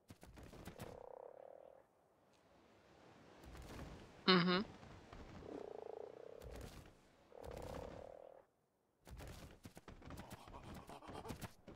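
A frog in the video game Ark Survival Evolved croaks in several separate low bursts, close and clear, with gaps of near silence and a sharp clattering knock between them.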